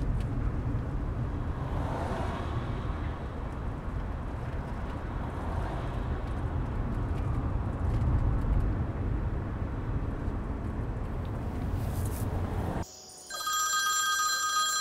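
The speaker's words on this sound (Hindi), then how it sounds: "नाजली का फोन है।" A telephone rings repeatedly at a steady level over a low hum, then cuts off near the end as a different, brighter tone sequence begins.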